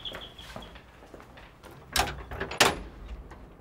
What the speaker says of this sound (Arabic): وانا راح افتح الباب